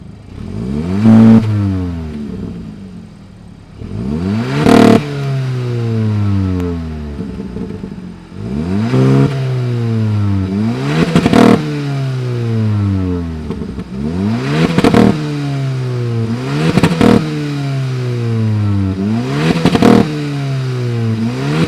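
A 2025 Hyundai Elantra N-Line's 1.6-liter turbocharged four-cylinder engine revs hard in repeated bursts, each sharp throttle blip climbing then falling back, about nine times at close range with no voices.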